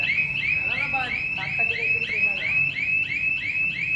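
An electronic fire alarm sounds loudly in fast repeating rising whoops inside a Zudio clothing store, with a person talking underneath partway through.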